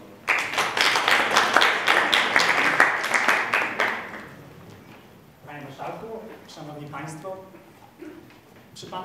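A debate audience breaks into loud, dense applause that holds strong for about four seconds and then thins out, as someone speaks over the last scattered claps.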